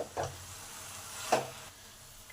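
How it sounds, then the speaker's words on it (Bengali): Grated papaya cooks in a hot pan for a sweet halwa as sugar and milk go in, giving a steady close sizzle with two brief louder hissing surges; no one talks. "এবার এই চিনি আর দুধটা দিয়ে দেবো"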